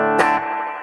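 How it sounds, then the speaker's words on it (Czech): An electric guitar played through a BluGuitar Amp1 with its reverb turned fully up: a single strummed chord rings out and washes into a long, dense reverb tail that sustains to the end, with no voices. "ten reverb je udělaný hrozně blbůzdorně, takže i když ho dáte úplně na 10, tak pořád je přijatelný"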